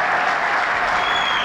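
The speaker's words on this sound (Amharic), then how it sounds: "ለጌታ ክብር አጨብጭቡ።" A church congregation claps in dense, sustained applause, loud and close, filling the space without any break.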